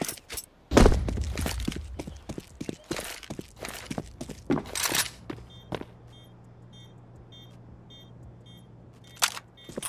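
Flashbang grenade thrown in Counter-Strike during a Blast Premier grand final match between Vitality and G2, with sharp bursts, clattering impacts and footsteps, then quieter beeping tones and a last sharp hit near the end.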